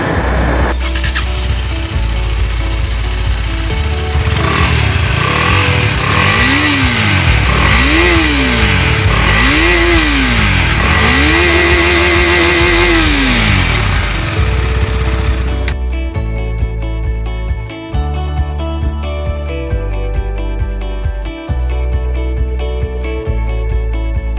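A Husqvarna Vitpilen 250 motorcycle idles loudly up close, then its engine is revved in several rising and falling sweeps before settling back to a steady idle.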